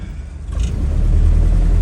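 A Ford Model A running a Holley 94 carburetor pulls away from idle, its low engine rumble swelling louder and rougher as it accelerates, heard up close.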